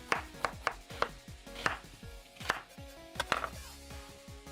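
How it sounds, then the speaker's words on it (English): A knife chops an onion into thin strips on a cutting board, a series of crisp, close, distinct knocks in an uneven rhythm with brief pauses, alone without talk. "for our onion, we're just gonna chop it into little strips"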